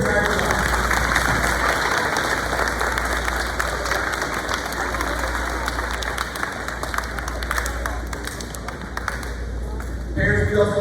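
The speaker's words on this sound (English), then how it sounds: "give a standing round of applause for your parents who have supported you this entire year or your entire life" Standing applause from parents and families at a middle school girls' athletics awards ceremony, continuous loud clapping and crowd noise filling the room for around ten seconds before a voice starts speaking.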